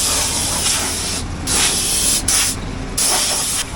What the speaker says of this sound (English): So Dad is blowing the tractor off first.